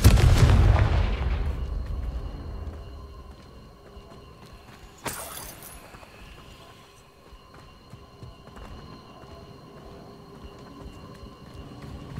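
Confringo blasting spell from Hogwarts Legacy: a loud rumbling explosion at the start that fades over several seconds, then a sharp second blast near the middle that trails into a low, distant rumble.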